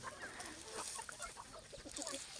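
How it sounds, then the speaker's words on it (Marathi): Farm chickens fed vegetable greens cluck softly and faintly at close range while they peck and rustle about. "हे किती आवडीने खात आहेत कोंबड्या बघा"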